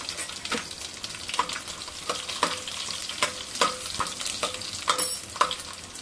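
Garlic fries in hot oil until brown, a steady sizzle broken by quick, regular scrapes of a spoon stirring in the pan, close and clear with no talking.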